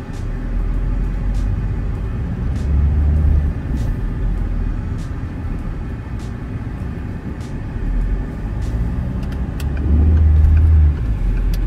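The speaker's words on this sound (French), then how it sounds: "une autre voiture qui arrive" A passing car approaches and goes by outside a Citroën DS5 Hybrid as it is driven on the road, its swell rising out of a steady cabin rumble with no one speaking.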